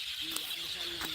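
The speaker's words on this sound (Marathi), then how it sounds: "किलबिल किलबिल किलबिल पक्ष्यांचा आवाज येत असेल बघा" Faint, brief bird chirps rise over a steady background hum, a couple of short high calls heard at a distance.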